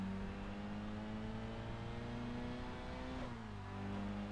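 A SIL 80 car engine in the racing video game Kaido Racer revs steadily with a droning, rising tone, dipping briefly near the end before climbing again, heard alone without voices.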